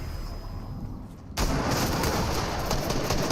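Sudden burst of loud gunfire in a shooter video game erupts partway in after a quieter stretch, then sustained rapid firing and rumbling shots continue to the end.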